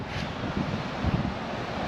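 A strong northerly wind blows across a rough ocean coast, a steady low roar and buffeting of the microphone with faint surf beneath and no talk.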